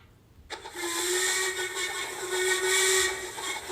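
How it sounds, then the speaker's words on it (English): A loud steam engine whistle suddenly blows and holds a steady tone for several seconds, with hissing steam and engine rumble underneath, from a locomotive pulling a heavy goods train. "he suddenly heard a whistle"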